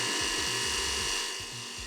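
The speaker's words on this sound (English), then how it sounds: "I can take a 7 millimeter drill bit and just enlarge the hole" A power drill with a 7 mm bit bores out a hole in a plastic BMW rear washer nozzle part, giving a steady grinding whir with repeated rhythmic ratcheting pulses. It sits close and fairly loud, with no talking.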